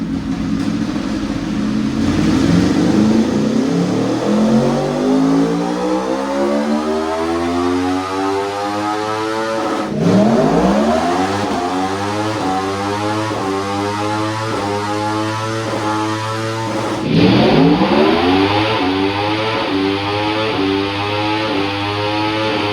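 A 2026 Aprilia Tuono V4 fitted with velocity stacks and running VP race fuel roars through three long wide-open pulls, each climbing steadily in pitch from low rumble to a loud high wail before dropping back.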